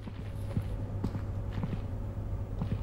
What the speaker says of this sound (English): I'm hearing all sorts of footsteps